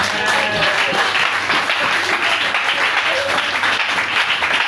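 A church congregation applauds during a sermon on the resurrection, with steady dense clapping mixed with loud voices and cheering throughout.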